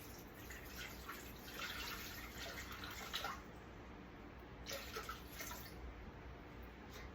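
Water poured from a container into a kitchen mixing bowl while making homemade natural yogurt, a soft continuous splashing trickle with a couple of brief louder pulses, faint and close, with no talking.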